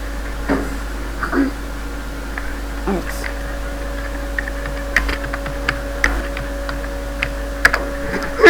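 Keys tapped on a computer keyboard in short irregular bursts and isolated clicks, fairly close, over a steady electrical hum, with no one talking.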